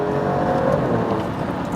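Alfa Romeo Stelvio Quadrifoglio engine held at a loud, steady, high rev, a continuous dense roar with a faint whine riding on top and no voices.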